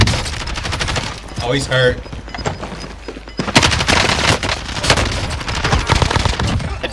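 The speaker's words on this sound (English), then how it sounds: "I literally dumped a mag into that dude" Automatic weapon fire in a video game shooter, rapid sustained bursts of loud rattling shots up close, mixed with a short spoken remark.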